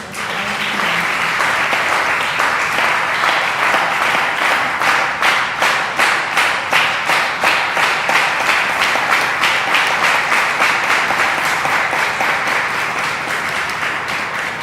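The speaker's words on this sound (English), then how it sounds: "Please give another round of applause." Audience at an Eshwaramma Day celebration at a Sri Sathya Sai Centre applauding steadily, a loud, sustained wash of many hands clapping that settles into a rhythmic, unified beat partway through.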